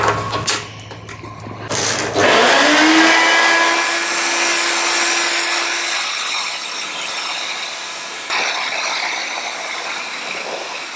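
A small blaster cleans rusty spots on car sheet metal, a steady loud hissing rush with a brief tonal whine early on, continuing without talk for about eleven seconds.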